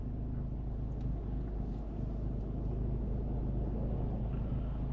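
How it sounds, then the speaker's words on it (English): Stock Honda Civic Type R driving around a skid pad, a steady low engine and road rumble with wind buffeting, heard from inside at a moderate level with no talk. "There's my stock Civic Type R for you guys. That's what she does."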